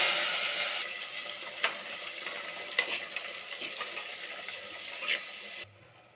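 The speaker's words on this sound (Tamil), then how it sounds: "வெங்காயம் வதங்கிடுச்சுங்க." Onion and green chilli sauteing in oil for a Tamil fish curry, a close, steady sizzle with a few stirring knocks that cuts off abruptly near the end.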